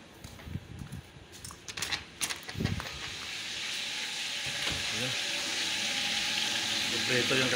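A few clattering knocks, then a steady hiss of milkfish frying in hot oil rises and holds, close and moderately loud.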